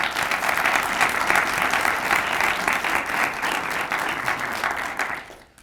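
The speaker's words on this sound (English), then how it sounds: "That deserves a round of applause." A sustained round of audience applause at a suburban city's State of the City address, a dense, loud wash of many hands clapping at steady strength for about five seconds before stopping abruptly.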